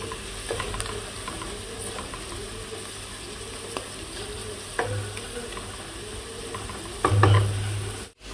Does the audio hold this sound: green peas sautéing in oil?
yes